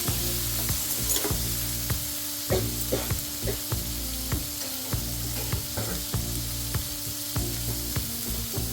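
Green chilies and tomatoes roasting in a pan over a gas flame give off a steady, close sizzle, punctuated by regular sharp clicks and scrapes of stirring.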